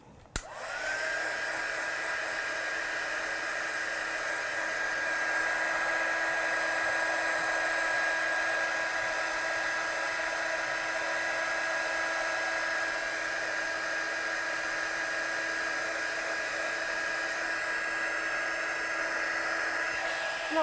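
Heat tool drying ink on paper, a steady loud whirring blast that switches on at once and runs unbroken for about twenty seconds, close by, with no talking.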